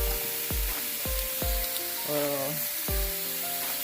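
A steak sizzles on an old indoor grill pan with a steady hiss, broken by a few soft knocks and faint ringing tones, with no one talking.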